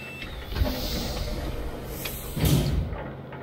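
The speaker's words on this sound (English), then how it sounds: "Sounds like the emergency door closed." An emergency door in South Park: The Fractured But Whole slides shut. A mechanical sliding rumble builds and ends in a heavier thud near the close, heard alone at moderate loudness.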